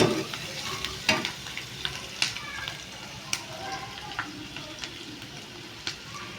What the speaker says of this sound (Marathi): आता इथे ना आपला कांदा चांगला भाजून घेणार आहे आपण